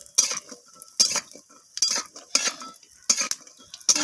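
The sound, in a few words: raw peanuts and lentil dumplings (bori) frying in mustard oil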